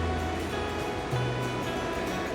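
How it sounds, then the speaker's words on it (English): The Rio Grande flows by as a steady, broad, wind-like wash of moving water, continuous and fairly loud, with a low hum underneath and no talking. "The mighty Rio Grande."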